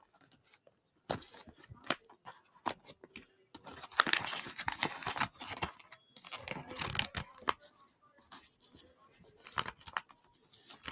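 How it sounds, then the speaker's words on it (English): Paper packaging of a surprise gift box being torn and crinkled open at close range, in irregular bursts of ripping and crumpling with short pauses between. "अरे मेरे को फाड़ना नहीं था"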